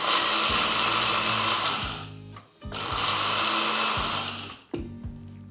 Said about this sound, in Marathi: शेंगदाणे आहेत याचा कूट करून घ्यायचा.